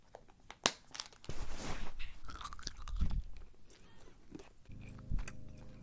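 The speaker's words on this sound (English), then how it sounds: "while chewing on some gum" Close, wet chewing of gum with soft smacks and crinkly mouth sounds, recorded intimately on a sensitive microphone in a quiet room, continuing steadily with no talking.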